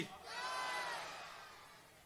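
Political rally crowd shouting a slogan in response to a leader's call, a brief loud collective roar that swells quickly and fades over two seconds at a distance.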